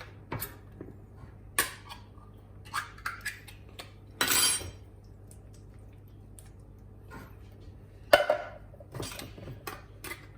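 Kitchen clatter while a cook handles tins of chopped tomatoes: a few sharp metallic clinks and knocks at scattered moments, with one louder rattle near the middle and another later, otherwise quiet.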